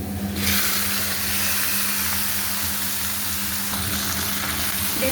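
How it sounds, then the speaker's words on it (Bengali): Chicken pieces tipped into a pan of fried onions set off a loud burst of hissing sizzle, and the sizzle stays strong and even under a low steady hum. "এখন আমি চিকেনটা ঢেলে দেবো।"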